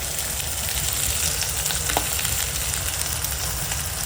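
Fish pieces fry in mustard-style fish oil with turmeric and salt, a dense continuous sizzle close up with occasional stirring clinks, no talking.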